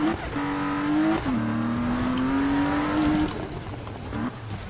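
A tuned Mercedes in the Need for Speed racing game revs hard, its engine note climbing and holding in sustained loud pulls with a brief dip and re-rise, then settling toward the end.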